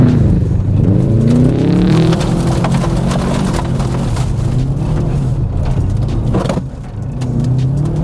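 Turbocharged Subaru Impreza WRX accelerating hard on an icy rally road, the engine climbing through a gear with a loud, close, continuous roar and rising pitch, a brief dip near the end.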